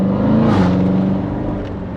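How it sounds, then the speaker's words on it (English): Corvette Z06 exhaust note while driving, a steady loud low rumble close up that swells slightly then eases, heard from inside the car with no talking. "so you guys can hear some exhaust, some of these exhaust notes"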